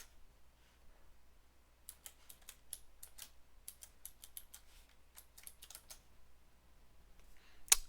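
Rapid bursts of keystrokes on a computer keyboard as a Git LFS install command is typed in a WSL terminal, clicking in quick uneven runs over a quiet room hum, close and fairly soft, with no one talking.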